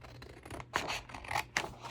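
Close, crisp snips and scrapes of scissors cutting a leftover piece of cardstock for a junk journal, in a few uneven strokes with no talking.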